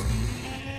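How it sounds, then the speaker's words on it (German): In Minecraft, a single short sheep bleat sounds close and clear, fading quickly within a second with no talking. "Diese verdammten Schafe."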